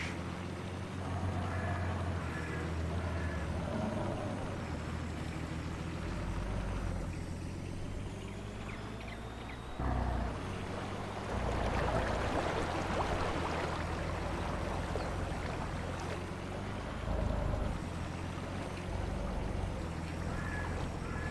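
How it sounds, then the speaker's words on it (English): A barge moves across the water in a video game, heard as a steady low engine drone with washing water noise that swells midway, with no voices. "Here comes the barge."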